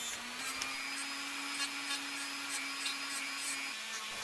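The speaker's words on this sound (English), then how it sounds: "This is a mildly abrasive wheel for my Dremel." A Dremel fitted with a mildly abrasive wheel grinds at a Stanley No. 4 hand plane, a steady close high whine with a low hum beneath and light scratchy contact ticks throughout.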